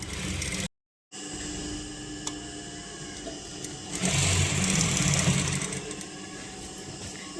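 A sewing machine stitches fabric for a crop top with a steady mechanical whir. It stops briefly near the start, then runs on and grows somewhat louder partway through.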